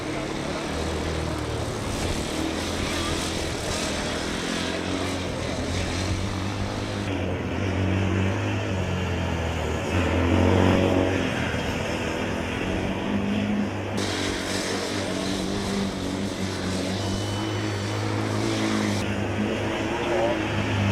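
Formula Student race car with active aerodynamics running a skidpad event, a steady whirring fan whine and engine drone sustained throughout, with a commentator talking over it.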